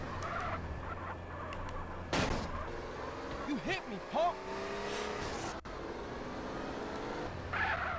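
A car engine drones and revs in GTA San Andreas during a hard mission, with skids and sharp bangs mixed in and someone talking over the driving.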